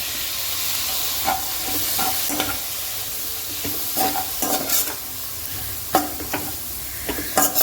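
Two chopped tomatoes frying in a pan with methi (fenugreek) and potato for aloo methi, a continuous close sizzle broken by repeated scraping stirs of a spoon, with no talk.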